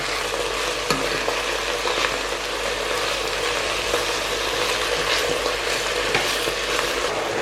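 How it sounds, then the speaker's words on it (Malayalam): Three-quarters of a kilo of washed chicken frying in oil inside a pressure cooker for masala rice, giving a continuous close sizzle with occasional clicks and scrapes of stirring, no talking. "ഇനി ഇതിലേക്ക് കഴുകി വൃത്തിയാക്കി വെച്ചിരിക്കുന്ന 3/4 കിലോ ചിക്കൻ ഈ എണ്ണയ്ക്കകത്ത് കിടന്ന് ചെറുതായിട്ടൊന്ന് ഫ്രൈ ആയി കളറ് മാറട്ടെ"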